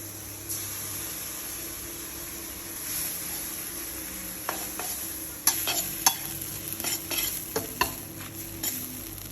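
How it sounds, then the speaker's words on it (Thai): Instant noodles with dark soy sauce are stir-fried in a hot pan, giving a steady soft sizzle under sharp scraping and clattering stirring strokes that grow busier toward the end; nobody speaks. "จากนั้นผัดให้เข้ากันนะครับ เติมสีให้น่ากินด้วยซีอิ๊วดำนะครับ"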